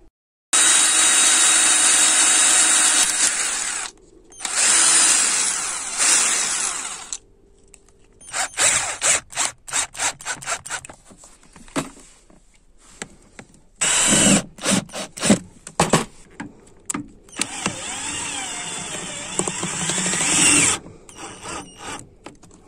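A power drill bores holes in small metal brackets for mounting batteries, running in loud sustained bursts broken by short pauses, with clicks and clattering handling sounds between the drilling passes.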